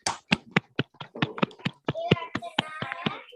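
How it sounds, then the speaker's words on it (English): Scattered students clapping over an online call, uneven sharp claps in a loose rhythm, some overlapping, with brief bits of chatter and voices mixed in. "let's give a huge round of applause for our Nimlan who did his very first presentation"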